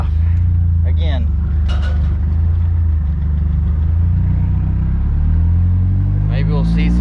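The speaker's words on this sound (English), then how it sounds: "Can't miss his car as loud as it is." A loud car engine starts and rumbles steadily close by, deep and throaty, with a few faint voices and clicks over it.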